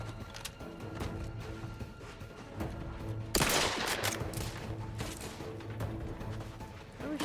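Video game gunfire crackles in continuous rapid bursts, with a loud crash-like blast partway through and dense shooting continuing after it.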